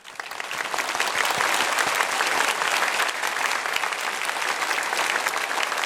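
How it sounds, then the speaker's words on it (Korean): A church congregation claps steadily for visiting missionaries during a Sunday worship service, a dense, sustained round of applause that fills the whole stretch at an even level. "자리에서 일어나셔서 인사를 드릴 때 격려의 박수 드리겠습니다."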